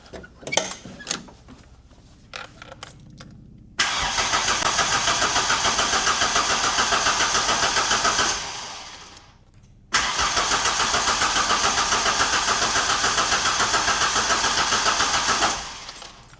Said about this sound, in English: We could just crank on it and see what happens.